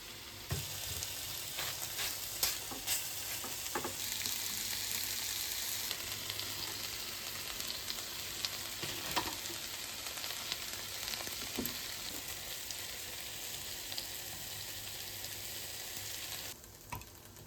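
Chicken breast fries in a pan with a steady, loud sizzle, and occasional sharp scrapes and clicks sound as the pieces are turned over, with no voices.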